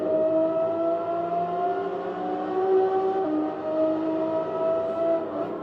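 A Renault Megane race car's engine climbs steadily under acceleration at the Nurburgring GP circuit, a loud sustained whine heard from onboard with no talk.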